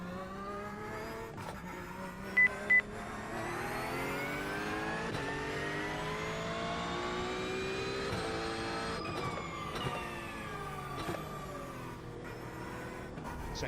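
An old Porsche GT3 race car in a racing game at Fuji revs hard through repeated gear changes, its engine note climbing and dropping steadily, alone and fairly quiet.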